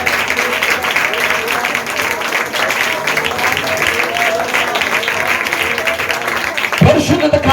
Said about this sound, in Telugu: ఒకసారి చప్పట్లు కొట్టి ప్రభువుని మహిమపరచండి